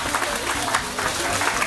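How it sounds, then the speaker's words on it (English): A brief burst of clapping from a small group, steady and fairly close, lasting under two seconds. "Round of applause for the group leaders."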